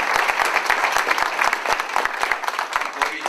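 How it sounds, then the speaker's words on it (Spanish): Audience applause for the author Marta at a book launch in Bogotá, a steady, close burst of many hands clapping densely throughout, with individual sharp claps standing out. "Y yo les pido un gran aplauso para Marta,"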